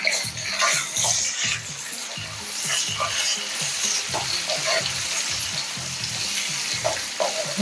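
Prawns and gongura frying in a pan over medium heat: a close, continuous sizzle with frequent rhythmic stirring and bubbling, and no voices.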